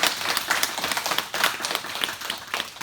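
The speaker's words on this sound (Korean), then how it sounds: "박수 한번 하겠습니다." A church congregation applauds together at an Easter Sunday service, a dense, steady wash of many hands clapping close and loud for the whole stretch.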